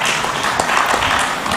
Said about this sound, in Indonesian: Beri aplaus untuk semua pasangan calon.